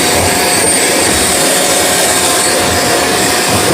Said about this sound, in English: now you're going to turn the vacuum cleaner on